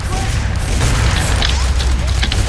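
Heavy booming and rumbling blasts from a grenade in the co-op shooter game F.E.A.R. 3 fill the mix loudly and continuously, with voices faintly underneath.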